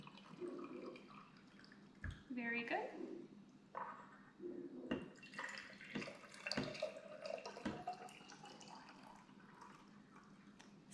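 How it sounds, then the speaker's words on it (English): Hot water trickles and splashes into glass mason jars in a few short pours, fairly quiet, with a brief spoken comment partway through. "going to pour hot water into both of these mason jars"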